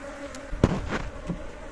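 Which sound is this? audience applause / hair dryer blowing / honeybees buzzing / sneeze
honeybees buzzing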